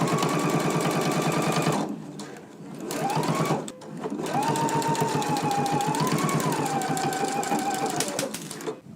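A sewing machine runs in long steady bursts, stitching a seam on a Simplicity S9261 garment, with brief pauses between runs; close and loud, with a voice speaking over the whirring.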